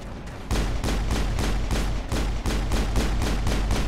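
Rapid bursts of gunfire in the video game Mass Effect, sharp repeated shots in a fast steady rhythm, loud and continuous with no talking.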